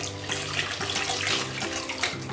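Tap water runs steadily into a bowl of pig liver that was just rubbed with white vinegar, making a continuous close splashing rush with no talk.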